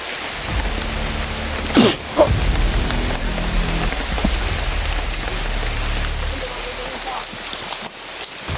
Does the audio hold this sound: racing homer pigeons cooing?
no